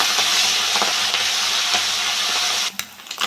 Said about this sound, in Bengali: সব মাছগুলো তুলে নিয়েছি মাছগুলো আমি একদম ভেজে নেবো